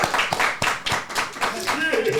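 An audience at a business talk gives a short burst of applause, a dense patter of clapping lasting about two seconds, with voices and laughter mixed in toward the end.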